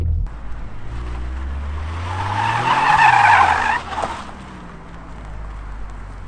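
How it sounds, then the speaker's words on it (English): Tires squeal loudly on a Toyota GR Corolla as it corners under engine drone, the screech rising to a peak and then cutting off as the car settles back to a steady hum. "these cars are so much fun to drive"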